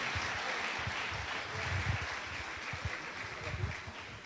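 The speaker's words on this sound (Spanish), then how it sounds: "Un fuerte aplauso" A church congregation at a women's congress applauds a speaker, a steady broad wash of clapping held at even loudness throughout, with no talk over it.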